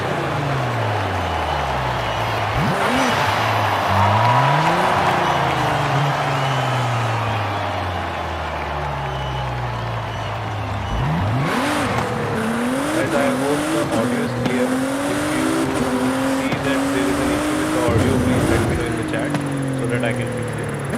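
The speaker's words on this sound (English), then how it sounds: "let's start by racing the Nissan GTR first" A Nissan GT-R racing in Forza Horizon 5: engine note climbing and dropping through repeated gear shifts, with tire squeal and a voice talking over the whole run.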